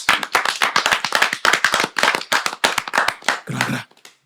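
A small group of people clapping close by in a wrestling podcast studio right after the show's intro, with fast, uneven claps that hold steady for several seconds and then thin out, with a brief low thump near the end.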